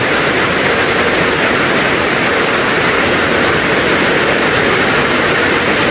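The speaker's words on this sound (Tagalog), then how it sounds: "malakas ang ulan" Steady, dense downpour of heavy rain, a loud continuous hiss with no breaks and no voices.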